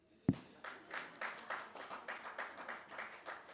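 Fathers in a church congregation clap in a steady, rhythmic beat after one sharp opening clap, the repeated claps quiet and slightly distant.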